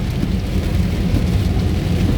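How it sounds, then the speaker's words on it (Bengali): Torrential rain on a highway from Cumilla toward Dhaka makes a close, even roar of hissing water with heavy low-end rumble, nothing else breaking through. "দর্শকবৃন্দ, দারুণ বৃষ্টি"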